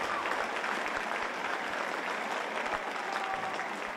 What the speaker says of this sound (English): Gets a nice hand from the Edgar Center crowd